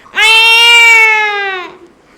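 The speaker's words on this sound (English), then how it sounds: "There's a cat in my kitchen." A single drawn-out meow, loud and close, rising slightly and then fading over about a second and a half.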